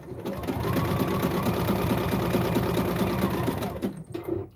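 A sewing machine stitching down the legs and decal of wrestling tights, running in a steady, continuous rapid whir with a fast even needle rhythm for several seconds, close and fairly loud before slowing and stopping.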